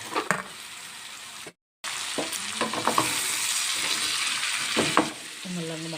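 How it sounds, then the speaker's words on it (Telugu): Radish pieces sautéing with onions in a pan give a bright, continuous sizzle broken by spatula stirs and scrapes, with a brief dropout near the start. "ముల్లంగి ముక్కలను ఉల్లిపాయల్లో మగ్గించుకుందాం"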